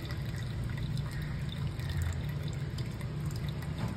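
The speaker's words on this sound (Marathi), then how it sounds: "तर आता याच्यातलं पाणी काढून घ्यायचं" Water drains steadily from a pot of cooked dal, a soft continuous pouring and trickling stream, faint and alone without talk.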